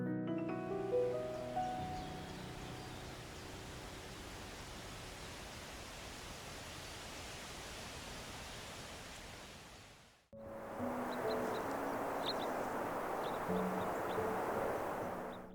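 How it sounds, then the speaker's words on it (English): Ristafallet waterfall on the Rista River in Sweden gives off a steady broadband rush of falling water, even and unbroken, with a short cut partway through and music-like tones faintly over the roar. "Ristafallet is one of the most majestic waterfalls in Sweden"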